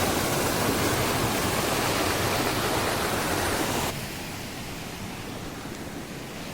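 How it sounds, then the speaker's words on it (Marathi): A strong stream of water pours with force in the Konkan countryside, a steady broadband roar that holds loud for about four seconds and then drops to a slightly softer rush. No voices are heard. "पाण्याचा फोर्स बघा किती आहे"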